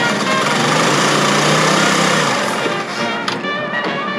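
A Honda CT90 motorcycle engine with a freshly installed NIBBI carburetor runs close by, a loud, rapid, rattling idle that holds steady and then dips slightly toward the end.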